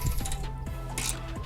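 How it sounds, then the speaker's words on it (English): Hand ratchet working on the 19 mm bottom bolt of a front camber kit on an Acura RSX Type S, a few close metallic clicks and clanks with no voices. "So I'm using a ratchet to take the bottom off."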